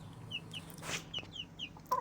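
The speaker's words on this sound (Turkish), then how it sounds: "horozu da koydum buraya" A rooster clucking close by: a handful of short, chirpy calls spaced irregularly over a quiet farmyard background, with no talking.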